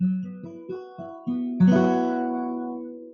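A minor triad on guitar with a stretched fingering is picked as several single notes in an even rhythm, then strummed together and left ringing, clean and fading on its own.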